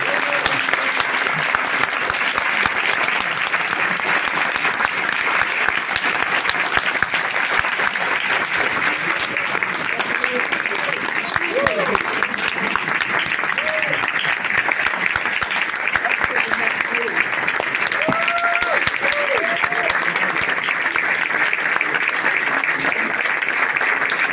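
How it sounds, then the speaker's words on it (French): A masterclass audience gives Paul Verhoeven a long, thunderous round of applause, dense and unbroken clapping from a large crowd, with scattered voices rising over it now and then. "Je pense qu'on peut faire un tonnerre d'applaudissements pour M."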